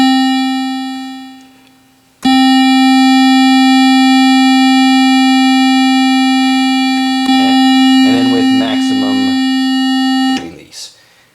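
ARP Explorer I synthesizer sounding a steady pure tone that fades out, then a long sustained note with envelope release, with a person speaking briefly over it near the end.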